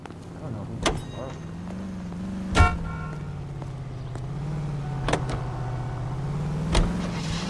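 Car driving in the 1940s Los Angeles crime game L.A. Noire on PC, a steady low engine hum with a few sharp clunks and transient bumps spread through the stretch.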